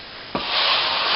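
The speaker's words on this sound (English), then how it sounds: "just scrape this back" A plastering tool scrapes back plaster on a plasterboard ceiling repair, a close, steady rasping rub that begins abruptly and continues for under a second without speech.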